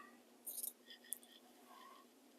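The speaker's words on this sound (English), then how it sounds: "I'm going to just finish cutting up this side seam." Scissors cutting along a fabric side seam, a few faint quick snips close by in a quiet room.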